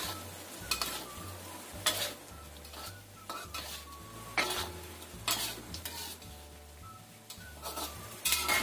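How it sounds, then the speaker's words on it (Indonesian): A spoon stirs food with chopped spring onion in a sizzling pan, giving repeated scraping and clinking strokes over a soft frying hiss, close and fairly quiet, with no voices. "Kita aduk lagi."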